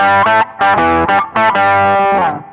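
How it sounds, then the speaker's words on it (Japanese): Electric guitar played through the octaver effect of a Zoom G1X Four multi-effects pedal gives thick, distorted chords with a low doubled tone, several punchy stabs with brief gaps before a longer sustained chord, close and loud. "で、オクターバー。"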